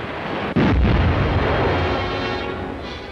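A World War II U-boat deck gun fires a single warning shot across a freighter's bow at sea: one sudden, loud boom that rolls off into a fading rumble over steady background noise.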